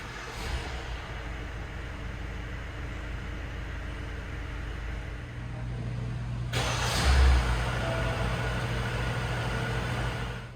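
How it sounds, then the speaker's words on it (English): A 2021–2022 Kia Carnival starts with a push-button ignition: a low background hum, then a sudden louder burst as the engine catches, settling into a steady, close idle. "to start the engine, just put your foot in the brake and push the button to start"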